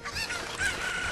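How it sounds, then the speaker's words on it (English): A chicken in the video game Ocarina of Time gives a short burst of honking, squawking cries, fairly loud and alone with no talk. "I dropped my chicken."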